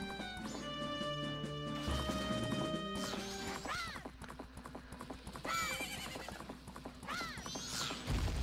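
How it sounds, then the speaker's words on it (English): Epona, the horse in the Zelda game Majora's Mask, gallops with rapid rhythmic hoofbeats and lets out repeated neighs and whinnies, game music and effects sounding alongside. "riding Epona"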